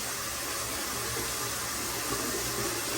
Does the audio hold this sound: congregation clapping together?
no